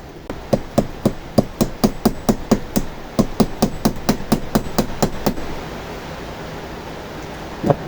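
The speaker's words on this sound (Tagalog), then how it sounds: "Tapos pupukpukin natin ng dahan-dahan." A hammer taps a ball race bearing into the steering head of a Honda Click 125/150 scooter, giving about twenty sharp metallic knocks in a quick steady rhythm that stop halfway through, leaving a low background hiss.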